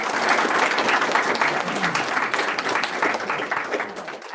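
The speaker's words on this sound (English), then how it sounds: "give her a round of applause" A room at a school board of directors meeting breaks into steady applause, a moderate crowd clapping continuously and fairly close for a few seconds without pause.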